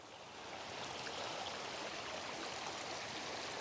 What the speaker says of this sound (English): Water is just pissing out of the mountain